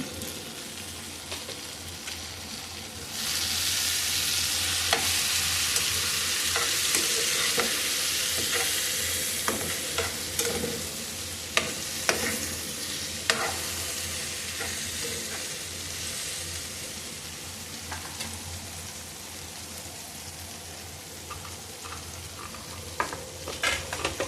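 Curry leaves, green chillies and chilli powder sizzle loudly in a hot pan as a spoon repeatedly scrapes and stirs them, with a steady frying hiss and intermittent clinks.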